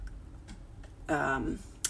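Sparse clicks of typing on a computer keyboard at home, a few light keystrokes spaced apart, with a voice speaking briefly in the middle.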